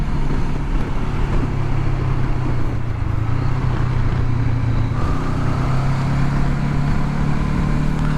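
Honda CB500X motorcycle carrying a pillion and luggage labors up a steep incline, its engine droning steadily and loud throughout with a slight pitch rise partway, mixed with wind and road noise.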